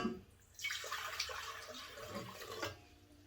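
Warm water pours steadily into the metal bowl of a stand mixer for a few seconds, close and soft, a continuous splashing trickle that fades near the end.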